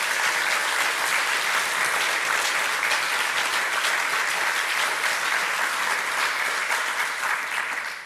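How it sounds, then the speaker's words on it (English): Sustained applause from a large audience at an academic year opening ceremony, steady and dense clapping filling the whole stretch before tapering slightly at the very end. "A round of applause"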